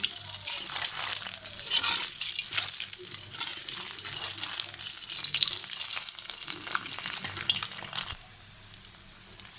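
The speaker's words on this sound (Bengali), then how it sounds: "ডিমটাকে লাল করে ভেজে নেব।" Eggs seasoned with a little turmeric powder fry in oil until browned, a dense close sizzle with stirring scrapes that eases off near the end.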